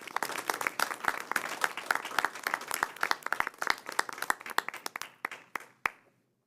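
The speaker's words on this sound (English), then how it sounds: "Let's give them a round of applause." An audience applauds to honor school board members for their years of service. Loud, dense clapping runs steadily for about five seconds, then thins to a few scattered claps and stops.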